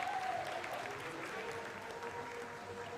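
Applause fills the Chandrayaan-3 mission control room during the lunar landing's vertical descent phase, a steady wash of many hands clapping at a moderate distance, with faint voices mixed in.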